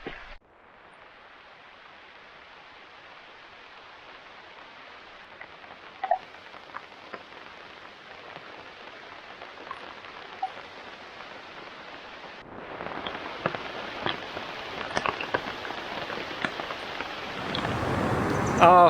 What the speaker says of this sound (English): it started raining and the sound is so cool, like all the raindrops on the leaves